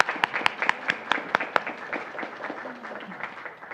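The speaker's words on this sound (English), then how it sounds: "If we could give them a round of applause" An audience at a school board meeting claps for the pledge leader's parents and sister, a burst of sharp individual claps that thins into scattered, softer applause.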